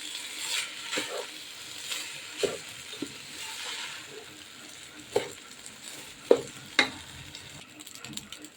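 Rice frying with spices in a pan for hilsa pulao, a steady low sizzle broken by several sharp stirring scrapes and clinks, close and fairly quiet, with no voices.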